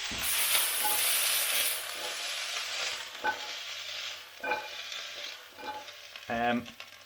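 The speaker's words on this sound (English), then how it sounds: "get ready for a little bit of a sizzle" A rice paper spring roll, its wrapper still wet with water, sizzles in a hot frying pan. The steady crackling hiss runs throughout with sharper pops and spits bursting near the end.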